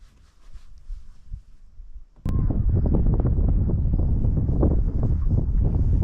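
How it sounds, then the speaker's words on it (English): Strong wind roars steadily across a microphone on the Columbia River during a bass fishing outing on a boat, starting lighter then surging into a loud, continuous buffeting gust that fills the rest of the clip. "the wind is definitely moving us along today"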